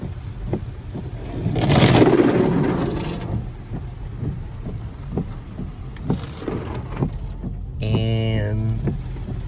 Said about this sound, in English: Mini car wash here.